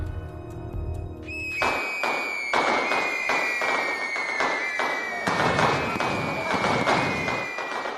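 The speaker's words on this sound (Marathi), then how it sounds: "सौम्य फटाके फोडा" Diwali firecrackers in Mumbai burst one after another in sharp, loud cracks, with a whistling rocket rising early on and a crackling haze between blasts.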